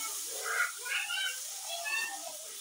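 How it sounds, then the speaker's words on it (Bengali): Pointed gourd (potol) frying in hot oil, a steady broadband hiss and sizzle with a few louder crackling bursts, continuous and close throughout. "ওই তেলে পটলগুলো দিয়ে দেবো, পটলগুলো ভেজে নেবো।"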